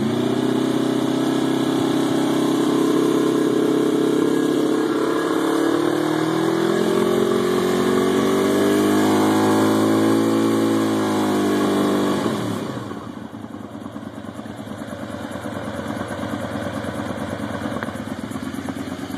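A Honda VFR 750 motorcycle engine revs up from idle to a steady 5,000 RPM and holds there, a loud continuous close drone with rising harmonics before settling at a lower level.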